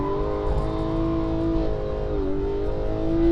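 A Porsche 911 GT3 is driven hard around the Anglesey circuit, its engine holding a high, tonal howl that rises and dips with gear changes and throttle, loud and close throughout.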